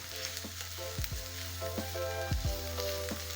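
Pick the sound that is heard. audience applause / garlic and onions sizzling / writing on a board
garlic and onions sizzling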